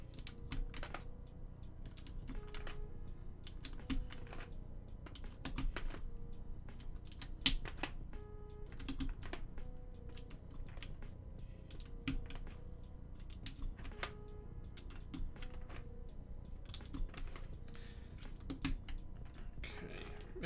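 Keycaps snapped one by one onto a Singa V3 mechanical keyboard, giving close, irregular plastic clicks and clacks scattered through the whole stretch, with soft handling noise between presses.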